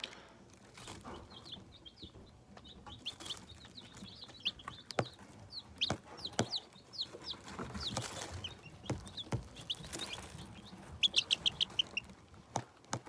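Young chicks peep and chirp in quick high bursts, with occasional soft clucks and scattered taps nearby, fairly faint overall.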